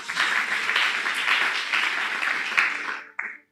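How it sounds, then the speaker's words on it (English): An audience at a ministers' retreat claps hands together in a dense, steady burst of applause that cuts off abruptly near the end, followed by a brief final flurry. "Somebody clap your hand."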